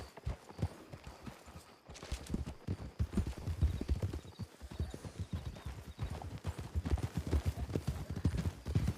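Several horses walk along a road with hooves clip-clopping in a dense, overlapping rhythm, loud and close, the steps continuing steadily throughout.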